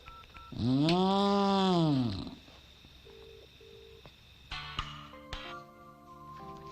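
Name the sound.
telephone being dialed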